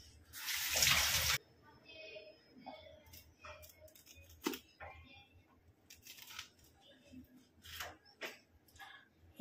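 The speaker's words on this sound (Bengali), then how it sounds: "এই লঙ্কাগুলোকে ধুয়ে নেব।" Green chillies are rinsed under running water in a kitchen, a short loud gush of tap water at first, then quieter splashes, handling sounds and a few sharp tearing snaps.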